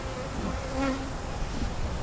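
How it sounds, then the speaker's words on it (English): Honeybees drone steadily around an open hive box in a beekeeper's nucleus colony, a dense continuous buzz close by with no talking. "Being bees."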